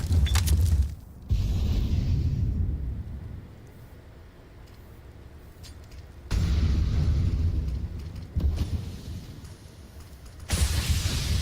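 A grenade blasts in a Counter-Strike match during a professional esports league game, landing as loud, booming low-end bursts that recur across the stretch with rumbling tails and no talk.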